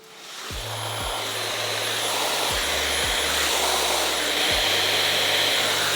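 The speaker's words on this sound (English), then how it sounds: "I'm just gonna go in with my diffuser attachment, and I'm gonna use this on a low fan" Dyson hair dryer fitted with a diffuser attachment, running on a low fan setting to warm hair set in velcro rollers, giving a steady close whooshing roar that holds evenly throughout, broken by a few soft low thumps.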